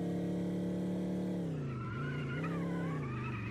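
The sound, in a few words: car drifting with tire skid in video game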